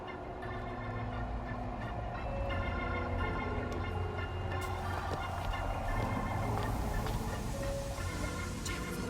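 Dense, chaotic bird calls and gobbling-like squawks from a flock in BioShock Infinite: Burial at Sea fill the scene loudly and continuously, layered over a busy game-world background.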